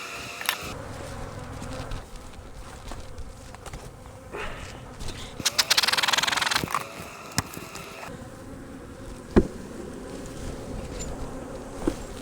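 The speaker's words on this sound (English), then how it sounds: "Getting a lot of bees in there around me" Many honey bees swarm close and all around a beekeeper at an opened hive, a dense droning hum with individual insects whizzing past, plus occasional clicks and a brief louder rush.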